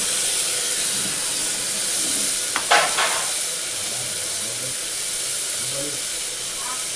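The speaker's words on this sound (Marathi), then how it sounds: "जिरं चांगलं तडतडलं आहे." Cumin seeds and a pinch of asafoetida crackle and sizzle in hot ghee, a continuous frying hiss with a brief sharper pop and scrape midway, heard close without speech.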